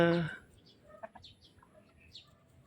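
A loud cluck opens, then softer scattered clucks and chirps from chickens nearby, with faint background noise.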